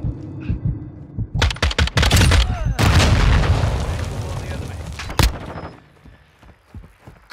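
Video game gunfire rattles in loud bursts, dense and close, with a sustained barrage in the middle before dropping away to scattered shots and quieter background.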